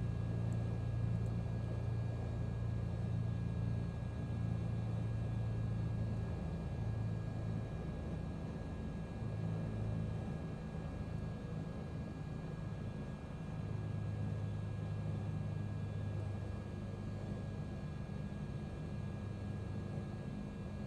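Hawker Hurricane I piston engine in Microsoft Flight Simulator idling at 1,000 RPM, a steady low droning rumble with an even throbbing hum that holds unchanged throughout, no talk.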